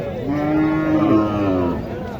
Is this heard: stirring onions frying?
no